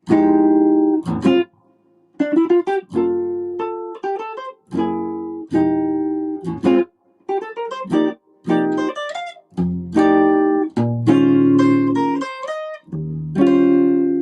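A solo seven-string electric guitar plays full, ringing chords and riffs with low bass notes, in short bursts separated by brief pauses, with no other instruments.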